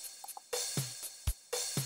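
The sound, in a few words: drum pattern with offbeat snare and click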